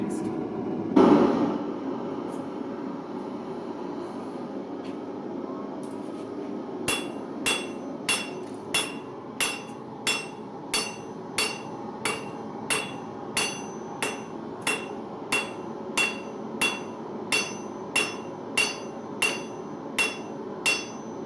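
A hammer strikes hot steel while the tang of a knife is forged: after a loud early clang, blows fall in an even rhythm of about one per second, sharp and ringing, over a low steady background.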